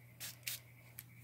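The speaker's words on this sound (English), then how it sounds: "we're going to take the spritzer and we're going to spritz this very lightly" A small spritzer bottle mists water lightly onto a clear stamping block in three short, soft hissing bursts, quiet and close.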